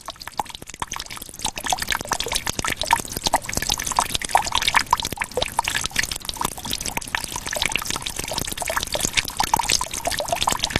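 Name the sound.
water drops dripping on rock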